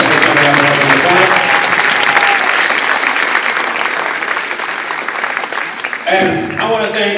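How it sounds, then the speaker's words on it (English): A crowd at a hypnosis show fundraiser gives loud, sustained applause for the stage volunteers. Thick clapping fills the whole stretch, with a voice talking over it at the start and again near the end. "Give them a huge round of applause for coming out and helping us out."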